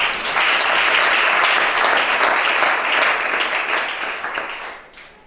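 A congregation applauds loudly and steadily for Chada at a prophetic church gathering in Gabon, a dense wash of many hands clapping that holds for several seconds, then tapers and fades at the end.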